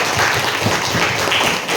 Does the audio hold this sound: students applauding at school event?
yes